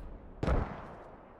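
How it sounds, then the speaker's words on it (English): A single heavy artillery boom in the Squad video game, a sharp burst that rolls off into a fading rumble, heard moderately close with no other sounds around it. "Did that arty kill Nizero or is that a mortar? Must have been the arty."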